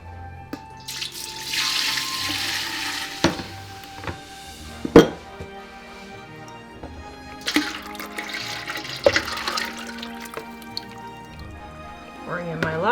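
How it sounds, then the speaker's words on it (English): Water runs and splashes while a bucket is rinsed out after lye is poured for hot process soap, with drips, trickles and several sharp clanks and knocks of the container scattered across the stretch. "Pouring in my lye, rinsing out my bucket."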